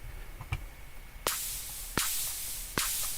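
Stereo white noise in a drum and bass track, a steady hiss that throbs rapidly in volume at about 40 Hz, cut by three sharp, loud noise bursts with long tails.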